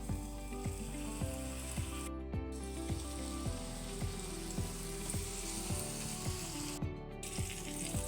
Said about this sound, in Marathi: आता हे मासे आपण तव्यावरती घालून घेऊ।